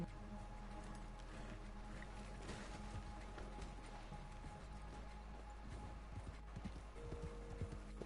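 A horse in Red Dead Redemption 2 Online moves with soft, repeated hoof clip-clops, faint and fairly steady over a quiet background, with no speech.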